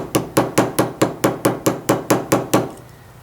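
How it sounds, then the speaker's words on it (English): Eleven evenly spaced hammer blows ring out on a metal rivet, sharp and close, at a quick steady rhythm before fading. "Trying really hard to keep the head of my hammer on the rivet"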